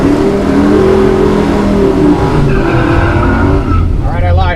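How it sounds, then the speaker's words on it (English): A drag racing car does a burnout at the Hot Rod Power Tour, its engine revving loud and steady with tire screech rising toward the end, while voices talk underneath. "We did a little bit of a burnout."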